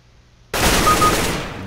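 Automatic gunfire in CS:GO, a sudden loud burst after a quiet moment that keeps going as a dense, rapid stream of shots until the end.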